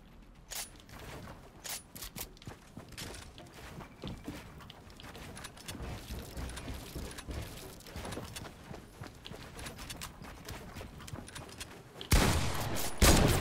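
Rapid bursts of gunfire from a Fortnite game come in dense, uneven volleys across the whole stretch, with sharp cracks stacked close together, and a louder burst near the end.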